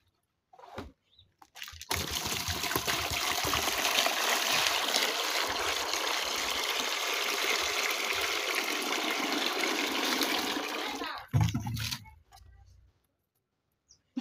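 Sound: water being poured into a container

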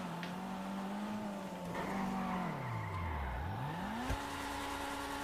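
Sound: Honda Civic Type R 2020 engine roar

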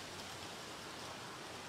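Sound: rain falling in San Diego

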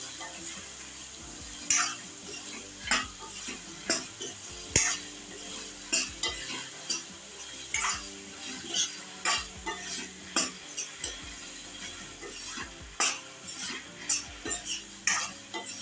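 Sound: stirring ridge gourd curry with salt and turmeric

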